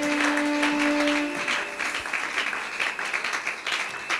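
A church congregation at a Sunday service claps in steady, dense applause to acclaim Jesus Christ, continuing unbroken for several seconds, with a sustained tone under the clapping at first.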